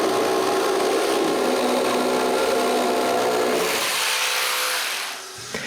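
A power saw cuts through a thick piece of oak on a workbench, giving a sustained loud, dense cutting roar that tapers away at the end.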